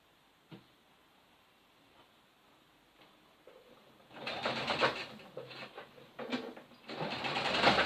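Sewing machine stitching a baby dress: after a few seconds of near quiet with faint ticks, a close run of rapid stitching starts in uneven bursts and keeps going to the end.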